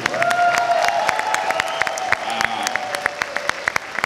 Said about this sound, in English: One more huge round of applause, please, for the one, the only M.A. Larson.